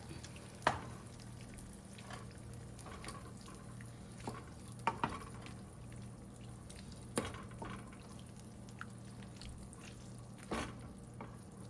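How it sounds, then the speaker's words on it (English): A hot tomato, feta and shrimp pasta sauce is stirred in a pan, giving faint, wet squelches and scattered spoon scrapes over a low, steady simmer. "I'm gonna continue stirring"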